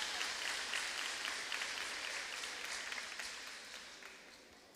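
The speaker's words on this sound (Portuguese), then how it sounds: "vamos aplaudir essa mulherada." A congregation at a women's church service applauds in a continuous, fairly faint wash of clapping that slowly tapers off toward the end.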